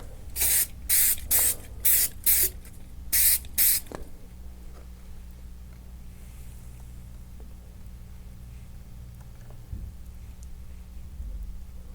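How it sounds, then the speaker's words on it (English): Seven short hissing bursts of Easy Tack spray adhesive sprayed onto plastic stencils in quick succession, close up, followed by quiet room hum. "Just using a little easy tack spray adhesive on these plasticky stencils"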